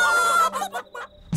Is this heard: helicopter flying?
no